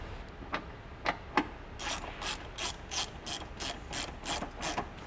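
A hand ratchet tightens 12mm bolts on a TRD intake being fitted to a Toyota 4Runner, starting with a few separate clicks, then a quick steady run of close, crisp ratcheting strokes.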